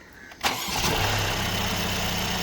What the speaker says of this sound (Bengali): আমরা এখন একটু গাড়িটি স্টার্ট দিয়ে দেখি সাউন্ড কন্ডিশন কেমন রয়েছে গাড়িটির